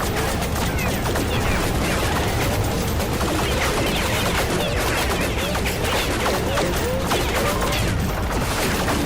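Starfighter missiles and weapons fire in the Rogue Flight space combat game make a dense, continuous barrage of loud crackling bursts and explosive rattles, with no pause throughout.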